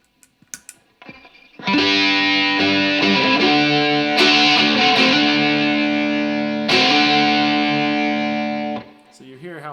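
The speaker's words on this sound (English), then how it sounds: "maybe distortion, let's throw some distortion." A ukulele played through a distortion effect, sustained chords ringing loud and thick, with a few light plucks before the strums and two fresh strums mid-phrase before the sound cuts off.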